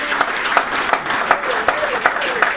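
A church congregation claps and cheers in steady, dense applause that stays loud throughout the short stretch.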